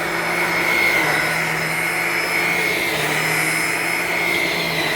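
Uwant mattress vacuum cleaner running close by, a steady loud motor whine with a constant high-pitched tone and no pauses.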